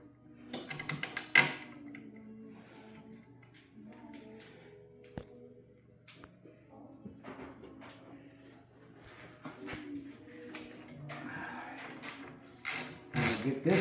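A hand ratchet clicks in quick bursts while bolts are tightened onto brackets during rear end assembly on a 1985 Chevrolet S10 pickup, close and fairly quiet, with pauses and small clanks between runs.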